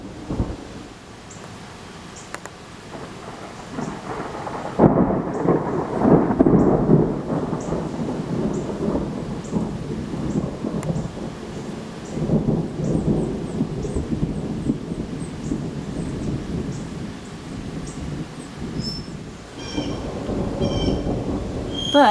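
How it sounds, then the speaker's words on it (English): A thunderstorm with rain falling steadily while long, low thunder rumbles roll in and swell several times, loud and sustained, without voices. "We're having a thunderstorm right now."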